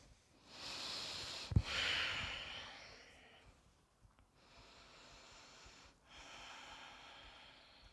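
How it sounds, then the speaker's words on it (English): Slow, controlled breathing during a yoga session, heard as soft airy inhales and exhales at close range, with one sharp nasal snort-like burst early on followed by long steady breaths and brief pauses. "Close your eyes and just observe your breath here."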